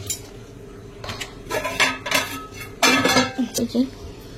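Dishes and cutlery clink and clatter as mutton is served into a bowl, with scattered bursts of clattering that grow busier toward the end.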